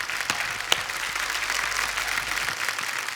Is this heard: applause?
yes